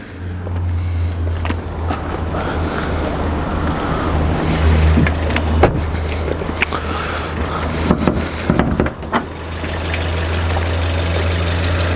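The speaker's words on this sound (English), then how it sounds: "It's such a smooth sounding engine." A Suzuki Vitara's engine idles with a steady, low, even hum beneath a broad wash of noise, continuous and fairly loud with no voices.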